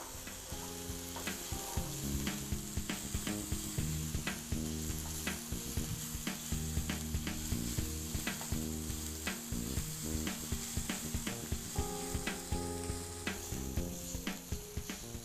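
Chopped capsicum sizzles loudly in a hot pan for restaurant-style chilli paneer while a spatula stirs and scrapes steadily, giving continuous frying crackle with rhythmic metallic clinks throughout, no voices.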